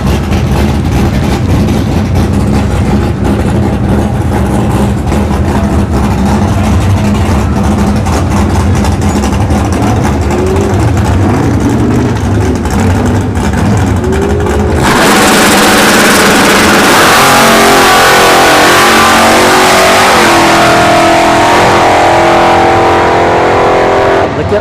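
A Norton Racing Chevrolet S10 and a Kia Stinger at a dragstrip test-and-tune session, loud engines idling and burbling close by, then a sudden full-throttle launch into a harsh, roaring acceleration that stays loud to the end.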